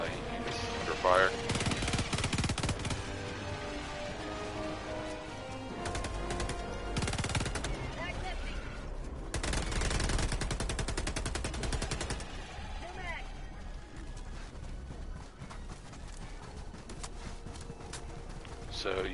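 Heavy gunfire in the video game Helldivers 2: dense, rapid automatic bursts and explosive blasts pour out loudly and almost continuously, with voices talking over the battle.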